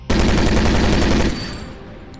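A newly shown weapon fires in a film scene, a loud, dense burst of rapid automatic gunfire lasting about a second before it cuts off and leaves a fading echo.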